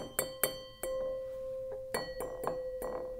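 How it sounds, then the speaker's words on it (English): A drinking glass partly filled with water rings with a sustained pure tone after several bright clinks, with a few more taps that leave the ringing note hanging in a quiet room. "as you add water, you can actually change the pitch of the tone coming out of this glass"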